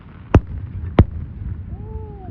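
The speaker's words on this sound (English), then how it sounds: "all the fireworks that we heard but didn't see what was coming from here." Fireworks at a fireworks show give two sharp, loud bangs about half a second apart over a low rumbling background, followed by a faint rising whistle-like tone.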